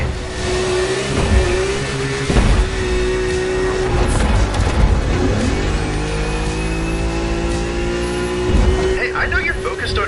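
A Nismo car accelerates in The Crew Motorfest racing game, its engine rising in pitch through gears with a steady roar, while a voice talks over the driving.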